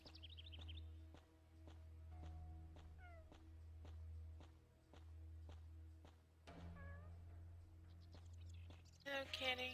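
Cat meowing in the video game Ankh 3, a short series of clear meows over a steady low game hum with ticking background sounds, ending in a brighter burst.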